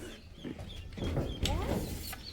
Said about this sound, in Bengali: আরে একটা মুরগির খোয়ার